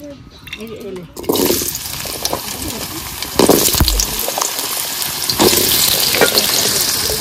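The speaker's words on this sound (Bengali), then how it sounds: "তেল দিয়ে দেবো, তেল দিয়ে আলুগুলো ভেজে নেবো।" Potatoes drop into hot oil and fry with a loud, steady crackling sizzle that swells as more pieces go in, with a brief clatter of utensils.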